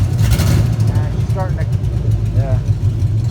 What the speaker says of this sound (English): She's idling right down at 500. Could be a little bit of a skip.